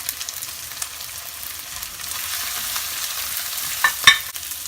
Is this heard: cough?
no